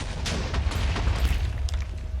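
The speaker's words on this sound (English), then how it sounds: "What's with all the explosions?" Explosions in a modded Minecraft game roll together into a dense, continuous low rumble with overlapping booms and crackling bursts, loud and sustained throughout with no talking.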